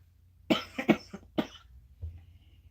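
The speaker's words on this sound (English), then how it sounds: "now all of a sudden I'm going to start coughing" A few sharp coughs in a quick cluster from a person indoors, close and fairly loud, followed by a faint throat sound, with no talking.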